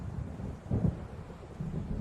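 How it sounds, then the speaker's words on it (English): Thunder rumbles low and heavy from a storm rolling in over dark lake waters in the game Alan Wake Remastered, a deep swelling roll with wind and rain noise beneath, moderately loud and without voices. "It seems there's a storm coming."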